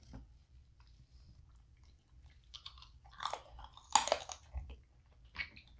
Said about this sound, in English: Oh, I thought he was chewing it.